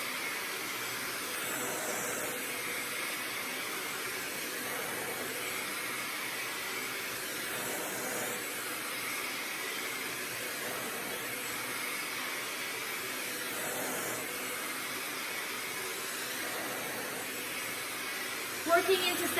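A handheld blow dryer runs continuously as a stylist dries a guest's hair section by section with a bristle brush; the steady, close whooshing airflow holds an even level throughout.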